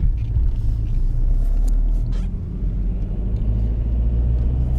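A BMW car in sport mode accelerates on a German Autobahn toward 200 km/h, giving a deep, steady cabin rumble of engine and road roar. The sound is loud and continuous throughout, and no one speaks.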